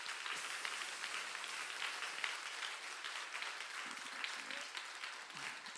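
A Sunday church congregation applauds in worship, a steady wash of many hands clapping at moderate distance, with occasional low voices beneath.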